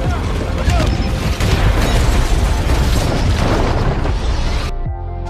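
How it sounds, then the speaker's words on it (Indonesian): A car overturns and explodes in a film, a loud, sustained roar of blasts and crashing debris, dense and chaotic, that cuts off abruptly near the end. "anak buah si Dekom lah yang tumbang karena mobilnya terbalik dan meledak"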